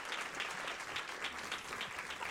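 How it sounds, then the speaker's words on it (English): Audience applause for Elizabeth Pauley at a 2018 Boston EdTalks event, a steady wash of many hands clapping that holds evenly through the moment with no voices on top. "you can give her an applause, she certainly deserves it"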